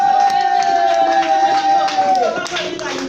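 A church congregation acclaims the Gospel with a sustained sung note from many voices over clapping and crowd noise, loud and full, the tone dropping near the end.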